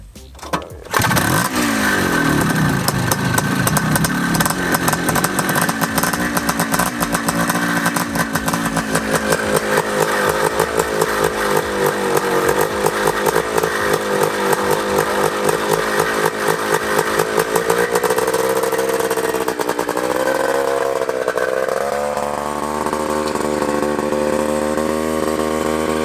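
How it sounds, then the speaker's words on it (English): A 1979 Honda Odyssey FL250 two-stroke engine with an aftermarket DG exhaust pipe sputters to life, then revs and idles loudly and raspily at close range for a long stretch. "That DG pipe sounds good."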